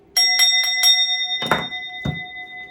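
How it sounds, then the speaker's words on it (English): A small bell is struck four times in quick, evenly spaced rings, then two duller knocks follow, close and clear with lingering ringing tones and no talk. "Let me hit the bell."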